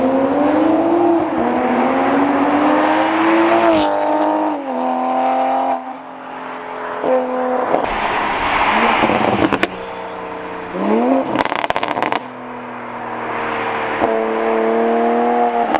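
A Toyota Supra with a modified, very loud exhaust revs repeatedly in rising and falling bursts, with crackling pops between pulls, up close and with no talking.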